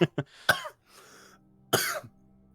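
A close coughing fit: a few sharp hacking coughs, a raspy wheezing breath, then a final harsh cough, with a low hum underneath.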